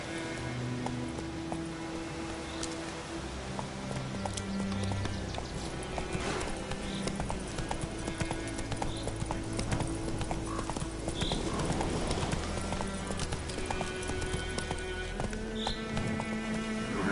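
Roach the horse gallops in The Witcher 3, hooves clip-clopping in a fast steady rhythm under a continuous bed of game music.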